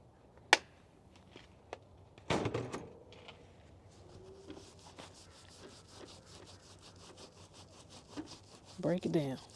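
Hard water residue scrubbed with white vinegar inside an RV gives a soft rhythmic rubbing, quiet and close, broken by a few sharp knocks and clatters.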